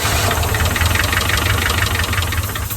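A neglected 1981 Chevy K10 engine, barely restarted after years of sitting, runs roughly up close with a loud, uneven knocking idle and a steady low rumble.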